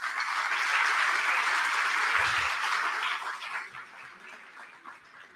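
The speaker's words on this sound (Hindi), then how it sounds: "तालियां।" Loud applause from a crowd at the inauguration of a new government school building in Delhi, greeting the public works team on stage; the dense clapping holds strong for about three seconds, then thins and tapers away.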